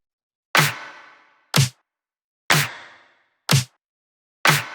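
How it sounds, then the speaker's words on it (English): Five sharp claps land in a slow, spaced pattern, each trailing off with a short reverb tail, alone without other sounds. "these like claps with a little bit of reverb"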